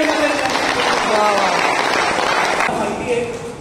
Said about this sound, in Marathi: हे सगळे जोरदार टाळ्या वाजवा